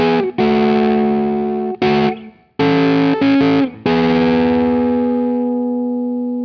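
Fuzz-driven electric guitar with P90 pickups on a Warhawk, set to the middle pickup position and run through a KarenX fuzz pedal, plays loud, thick sustained notes and short chord stabs with brief gaps, ending on a long ringing decay.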